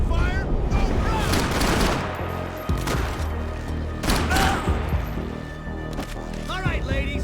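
Suppressing gunfire in the video game Max Payne 3, rapid automatic bursts and shots crackling steadily throughout, mixed with game voices and battle noise.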